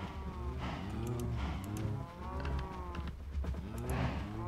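Several loud, drawn-out cow moos from a modded Minecraft game overlap one another in a steady series over a constant low rumble, with no pauses between them.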